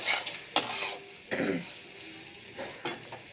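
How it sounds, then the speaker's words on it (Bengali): A spatula stirring curry gravy with soy and other sauces in a pan: a handful of distinct scrapes and clinks over a low, steady sizzle, close and moderately loud. "সমস্ত সসগুলো দিয়ে এবার আমি নেড়ে চেড়ে একটু হতে সময় দেব"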